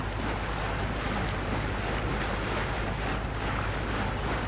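A boat under way on open water at early morning, with a steady low engine drone beneath continuous wind and water rush, close and even throughout with no talking.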